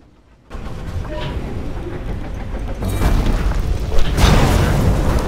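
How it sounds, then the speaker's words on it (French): An explosion destroying drills in the video game Tchia: a sudden booming burst from silence that builds into a loud, rumbling roar, with a second heavier surge near the end. "Tu devrais essayer de neutraliser les foreuses avec une explosion."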